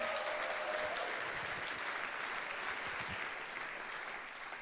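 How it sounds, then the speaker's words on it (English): Sustained applause from a crowd, a steady wash of clapping that holds for several seconds and tapers slightly at the end. "Let's give them a round of applause."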